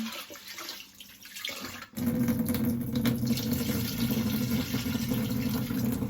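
Glutinous rice is rinsed under running tap water: a soft handling rustle first, then a steady, loud splash of water pouring into a bowl of grains, close and continuous.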